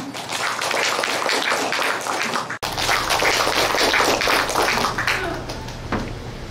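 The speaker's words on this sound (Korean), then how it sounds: "큰 박수로 맞이해 주세요." Dense, steady applause fills a hall at a national storytelling contest for visually impaired participants at a braille library in Daejeon, with a brief dropout midway and a low hum beneath.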